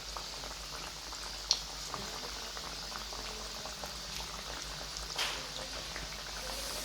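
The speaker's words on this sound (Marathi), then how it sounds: "मंदाचे वर चांगलं खरपूस तळून घ्यायच्या" Jaggery kapnya sweets deep-fry in hot oil, making a soft, continuous bubbling hiss with occasional small pops, fairly quiet and steady.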